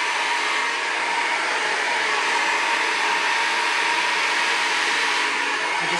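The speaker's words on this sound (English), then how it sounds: "hair dryer." A hair dryer blows steadily and loudly up close, an unbroken whooshing airflow held for several seconds with no voices.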